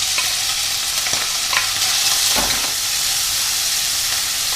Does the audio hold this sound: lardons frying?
yes